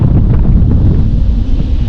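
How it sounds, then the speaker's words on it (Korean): Strong wind buffets the microphone high above Manhattan near the Hudson River, a loud, steady low roar with no voices. "바람 소리 들리세요, 이제?"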